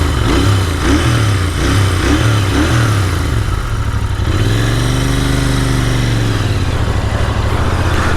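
A 2020 Royal Enfield Interceptor 650 BS6 twin idles and revs, its deep throbbing exhaust loud and close, rising through a revving swell midway and then settling back to a steady bassy rumble with no talking.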